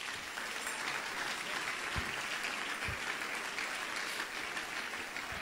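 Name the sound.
applause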